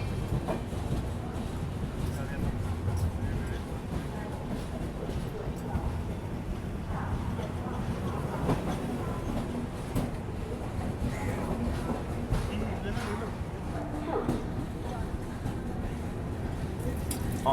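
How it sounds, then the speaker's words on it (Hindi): The 10103 Mandovi Express, Mumbai to Goa, pulling into Ratnagiri railway station, a continuous low rumble and rattle of wheels with faint clacking, while people talk over it on the platform. "बिल्कुल dot on time train enter कर रही है।"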